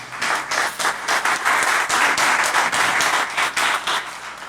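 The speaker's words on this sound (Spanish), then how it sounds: "Démosle un aplauso al Señor." A church congregation claps together in a steady, lively burst of applause that fills the room, with the rhythm swelling and easing in waves for several seconds, moderately loud and without talking.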